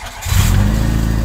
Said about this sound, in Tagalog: Sige nga Sir Dario, paandarin mo nga ulit